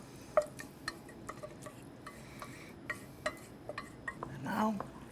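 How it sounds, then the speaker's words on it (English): A spoon stirs seafood four-cheese macaroni and cheese in a pot, giving scattered light clinks and taps against the metal over a soft, thick mixing sound, with no voice. "And now I'm just going to stir it all together."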